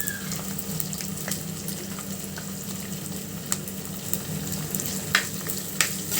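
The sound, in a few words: ginger garlic paste frying in pan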